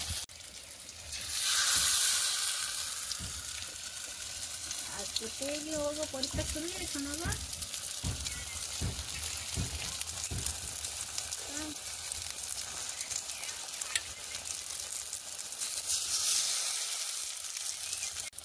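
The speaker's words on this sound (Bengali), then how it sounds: "এবার এই ব্যাটারটার মধ্যে আমি একে একে কুমড়ো ফুলগুলোকে চুবিয়ে নিয়ে আর কড়াইয়ের মধ্যে ছেড়ে দেবো।" Battered pumpkin flower fritters frying in oil in a wok, a steady bright sizzle throughout with surges as pieces drop in, and a voice talks briefly midway.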